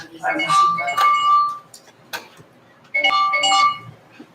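A cell phone rings during a police services board budget meeting, two bursts of an electronic melodic ringtone separated by a pause, loud and close in a quiet room.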